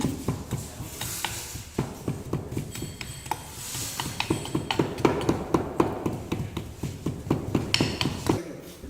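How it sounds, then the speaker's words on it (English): A round hammer rams moulding sand into a drag box in a casting mould preparation, making a quick series of dull, muffled thuds in a steady, slightly uneven rhythm, close by and with no speech. "The use of round hammer is to push the sand completely downwards"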